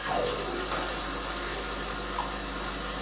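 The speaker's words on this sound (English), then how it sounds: "Let's add water, hot water for tea." Hot water runs steadily from a Cino XS Presso Bean E2 coffee vending machine after its pump was replaced, a continuous watery hiss and trickle with no talk.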